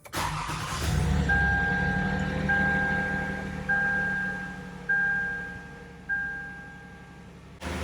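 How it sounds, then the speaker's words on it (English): Car engine started up, a brief cranking burst followed by a steady running drone with a faint whining tone and periodic surges in level. "Let's go ahead and crank this one."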